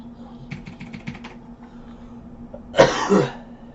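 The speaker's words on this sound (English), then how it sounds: "I don't know if you can hear him coughing." One close, raspy cough follows a few seconds of light keyboard tapping in a quiet room.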